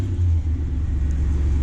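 A 1994 Chevy Cheyenne C/1500 pickup with a 4.3 engine and a FlowMaster 40 Series muffler runs close by, giving a deep, steady exhaust rumble that holds throughout with no pauses.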